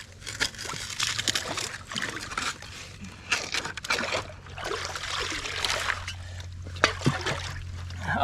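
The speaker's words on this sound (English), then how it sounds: "Wash the sand off that's on it." Creek water trickles and sloshes as sand is rinsed off a broken mason jar fragment while panning for gold in a Michigan creek, with irregular splashes and gurgles close by.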